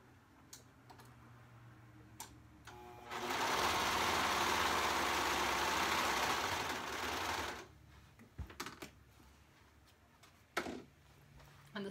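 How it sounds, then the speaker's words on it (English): A serger stitches and trims a fabric edge in one loud, steady mechanical run of about four seconds, with scattered handling clicks before and after. "So I'm going to run this through the serger"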